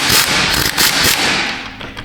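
An impact gun fastens bolts on the front axle of a Ford F250 during U-joint replacement, a loud close rapid rattling hammer burst that hammers on then tapers off.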